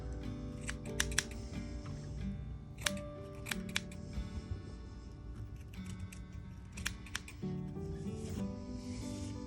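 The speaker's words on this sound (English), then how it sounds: "I'm using a pair of the curved scissors too." Curved scissors snip fly tying material for a baitfish pattern, sharp close clicks and cuts in small clusters over a steady background hum, no talking.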